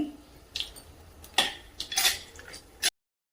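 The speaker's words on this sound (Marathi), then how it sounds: "पाव चमचा जिरे, थोडेसे शेंगदाणे, शेंगदाणे चांगले परतून घ्यायचे." Peanuts and cumin are stirred and roasted in a pan with oil and mustard seeds, giving a few scraping, clinking spoon strokes against the metal over quiet background sizzle.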